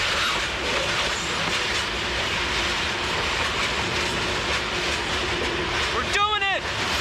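A freight train rolls through Croatia, its wheels clattering and rumbling steadily up close, then squealing in a high, wavering whine near the end.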